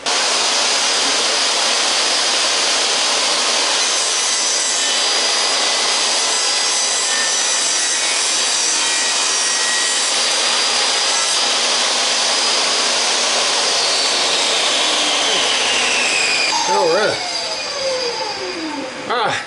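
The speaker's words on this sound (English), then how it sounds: "I'm going to set the saw up and trim this top right quick." Power saw trimming the top of a wooden battery box, a steady loud broadband whine running continuously for most of the clip before winding down with a falling pitch near the end.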